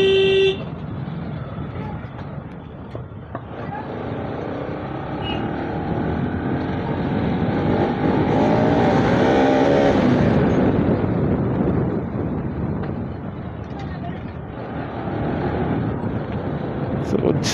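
A Bajaj Pulsar RS200 motorcycle rides through city traffic in Jodhpur, its engine droning steadily up close amid passing vehicles and car horns, while riders talk throughout.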